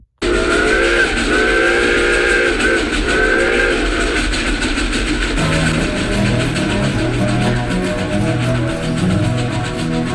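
A Reading steam locomotive runs with a loud, sustained chuffing roar as its steam whistle blows in a long, wavering chord through the first half, then its deeper working rhythm continues, close and loud, with no talk.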